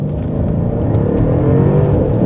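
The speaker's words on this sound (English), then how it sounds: "Hear that exhaust?" A 2016 Mercedes S63 AMG accelerates hard from a stop, its exhaust roaring loud and close in a continuous rising rev with no talking.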